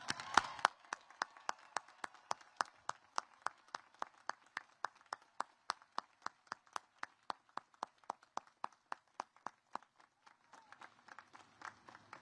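Scattered, fairly faint applause greets Coast Guard graduates at a commencement ceremony. Sharp claps fall in a fast, even rhythm that thins out after about ten seconds.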